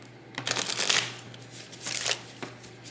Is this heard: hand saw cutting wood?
no